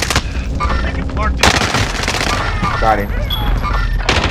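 Rapid automatic gunfire from the video game Call of Duty: Modern Warfare, dense bursts crackling throughout with loud sharp shots, while players talk over the shooting.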